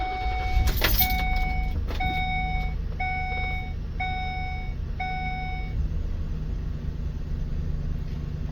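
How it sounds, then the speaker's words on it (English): A car engine rumbles low and steady after starting, with a loud repeating series of six electronic chime beeps over it at first, then the engine runs on alone. "Now we're going to go ahead and start the vehicle."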